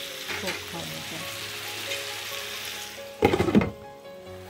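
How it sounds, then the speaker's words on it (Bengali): Doner kebab meat frying in a pan, a steady close sizzle with a burst of scraping stirs near the end. "আবারও নেড়ে মিটের কাবাবগুলো একটু দেখে দেবো"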